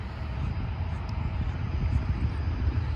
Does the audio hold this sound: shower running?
no